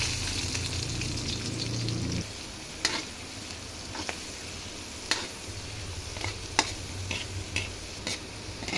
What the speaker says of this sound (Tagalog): Pagmamantikain ko siya. Para malasa. Lalagay ko na ang sibuyas.